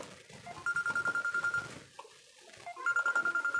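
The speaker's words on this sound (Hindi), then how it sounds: "फोन आ गया है।" A phone rings with an incoming call during a Hindi math class, two bursts of fast pulsing electronic ringtone separated by a short pause, clear and fairly close.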